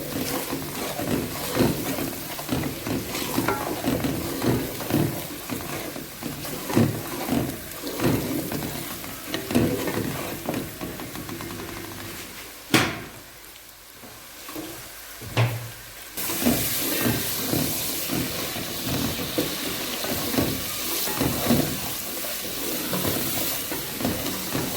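Spices and chillies sizzle and fry in a pan for saag bhujia, a steady close crackle with occasional louder spits and stirring clatter, continuing without speech throughout.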